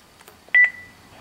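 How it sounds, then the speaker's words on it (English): A Panasonic intercom door phone at a Japanese entrance rings with a short pair of bright electronic tones followed by a sustained single tone that fades out, fairly loud and close, with no talk. "You can hear the ringing sound."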